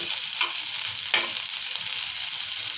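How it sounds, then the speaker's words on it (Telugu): Chillies, onions, coriander and mint fry lightly in oil with a dense, even sizzle throughout, broken by two brief scraping stirs, close and without any talking. "ఇవి లైట్గా ఫ్రై చేసుకోవాలి."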